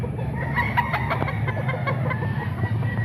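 Roosters at a market, Boston Gilmore gamecocks among them, cluck and call over busy background noise, with a few crow-like bursts in the mix.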